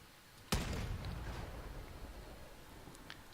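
A single sharp blast from shell fire in the Crossout vehicle combat game, aimed at armoured tracks and a fuel barrel, rings out close and loud, then decays into a long rumbling tail, with a faint second crack near the end.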